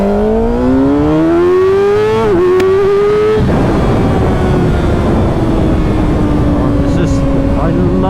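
A 2025 Kawasaki ZX6R inline-four sport bike revs up through the gears on a road, a loud rising whine that climbs in pitch, drops at a shift, then settles into a sustained high drone over wind rush.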